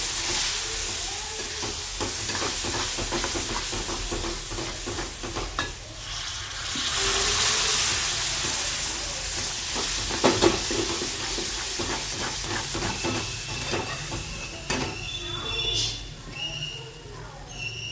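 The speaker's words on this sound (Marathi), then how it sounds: "आता यामध्ये लागेल तसं थोडं थोडं गरम पाणी टाकून घ्यायचं आहे।" Hot water going into cooking bajra flour halwa makes a loud, sustained sizzle and steamy hiss, while a spoon stirs in quick, repeated scrapes throughout, with a voice at times.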